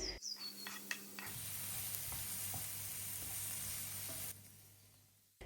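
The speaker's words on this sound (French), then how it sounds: "Je commence par faire revenir un oignon haché dans une poêle avec un peu d'huile" Chopped onion sizzles steadily in a little oil in a frying pan, a broad continuous hiss with a few clicks and stirring taps, then cutting off abruptly near the end.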